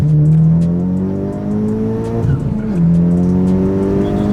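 Modified Honda Civic Type R FK8 making about 400 wheel horsepower, with a loud, close engine note holding steady on rolling anti-lag, then shifting pitch as it launches and pulls hard, with no talk.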